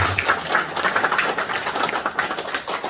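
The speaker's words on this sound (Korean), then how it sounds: "우리 대표님 좋은 말씀 다시 한번 큰 박수로" A crowd applauding the party leader at a local party meeting, dense, lively clapping from many hands, continuous and fairly loud throughout, with no talk over it.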